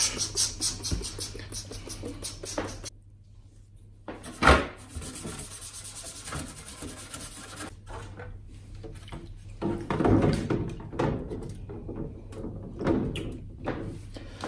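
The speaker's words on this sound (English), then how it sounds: "Now it's time for some cleaning, and I use just some kitchen cleaner, which is good for loosening up fat and" A Commodore VIC 20 plastic case being scrubbed with kitchen cleaner, close rubbing strokes in uneven bursts with a sharp knock partway through and brief quiet gaps, no talking.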